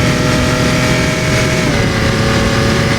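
An Audi race car driven at Hockenheimring in a Roblox racing game: a dense, continuous engine roar at high revs, loud and steady throughout with no pauses and no voices.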